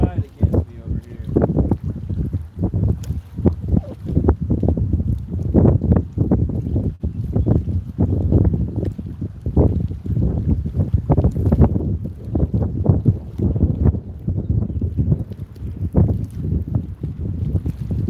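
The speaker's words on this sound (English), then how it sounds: "The wind is blowing right against me over here." Gusty wind buffets the microphone out on shallow water during a fishing session, a steady low rumble with irregular thumping surges throughout.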